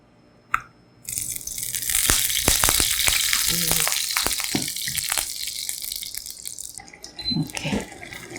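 Meat and vegetables hit hot cooking oil in a pan for Korean japchae, bursting into a loud, close sizzle and crackle that stays steady for several seconds, with spoon clatters and stirring breaking through near the end.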